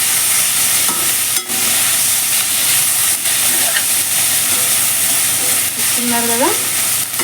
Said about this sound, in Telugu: వేసి మంచిగా కలుపుకొని ఫ్రై చేసుకోవడం